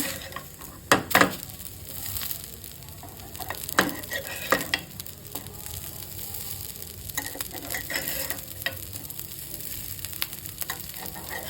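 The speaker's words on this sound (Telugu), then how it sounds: "2 వైపులా నెయ్యి వేసుకొని కాల్చుకోవాలండి. ఇప్పుడు ఇంకో వైపు కూడా టర్న్ చేసుకుని కాల్చుకుందామండి. గోల్డ్ కలర్ వచ్చేదాకా ఫ్రై చేసుకోవాలి." Stuffed idli fry in ghee on a pan with a continuous soft sizzle and crackle, broken by a few louder scrapes and taps as the pieces are turned, close and steady.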